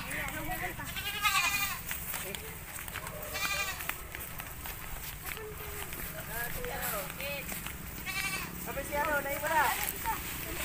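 Goats bleat repeatedly at close range while being herded on a rural smallholding, with footsteps and people talking and shooing throughout.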